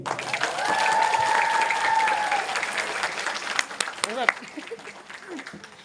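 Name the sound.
audience applause for the speaker's teacher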